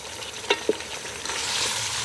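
Browned onions fry in a pan with a soft, steady sizzle, broken by a couple of sharp pops early on, close up and without any speech.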